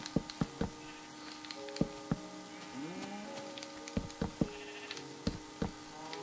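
Sheep bleat in the video game Minecraft, a few wavering bleats in the middle of the stretch amid repeated sharp block-placing taps and clicks.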